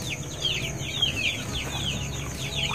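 A golden-colored hen settled on a nest to lay eggs gives soft, repeated clucks and chirpy calls, close by and steady over a low background hum.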